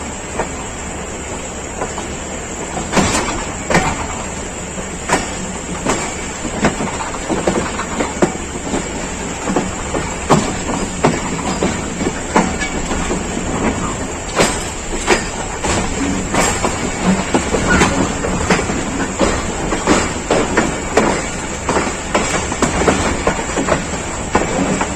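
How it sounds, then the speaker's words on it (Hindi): Allama Iqbal Express of Pakistan Railways running on rails near Wazirabad, a steady loud rumble with repeated clickety-clack wheel beats and hiss, sustained throughout with no talk. "टेन डाउन अल्लामा इकबाल एक्सप्रेस ये लेफ़्ट साइड पे सियालकोट की जानिब मुड़ जाएगा।"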